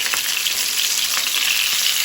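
Stuffed mackerel fries in hot oil in a pan over a medium flame, giving a loud, steady, close sizzle that never lets up and carries no voices.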